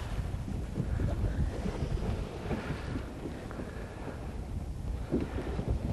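Strong wind buffets the microphone on a boat out fishing at sea, a steady low roar with gusty swells and water wash beneath, no voices.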